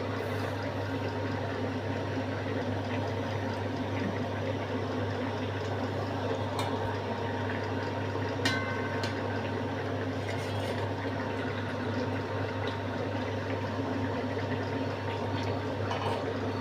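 Okra and potato curry gravy bubbling steadily on a high flame, a continuous close simmering wash with a low hum underneath and a few faint clinks, no talk.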